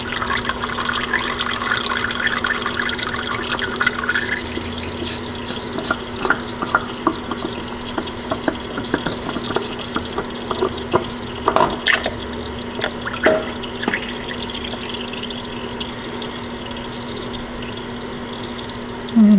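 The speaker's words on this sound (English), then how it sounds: "And again, you're going to get some hydraulic fluid." Hydraulic fluid draining from a Kubota compact tractor into a pan during a 400-hour service, steady trickling and dripping with occasional metallic clicks and clanks from nearby tools, close and fairly loud with no talking.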